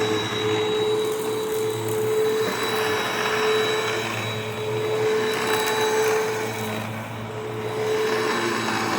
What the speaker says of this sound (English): I do hear some bearing noise on a brush roll.